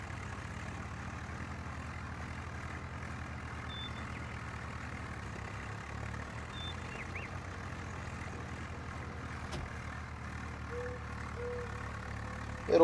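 A Swaraj 744FE tractor in Farming Simulator 19 idles with a low, steady engine rumble that runs unbroken for about thirteen seconds at a faint, even level, with no voices.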